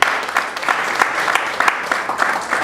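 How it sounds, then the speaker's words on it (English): An audience at a power-sector panel dialogue claps for the panelists, a dense, steady burst of applause lasting a few seconds, fairly loud and close. "A round of applause for the panelists."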